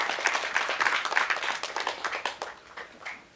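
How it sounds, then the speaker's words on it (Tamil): Audience applause at a film-related event, a burst of clapping that swells then gradually thins out and fades toward the end. "ஒரு பெரிய கைத்தட்டல் கொடுக்கணும்"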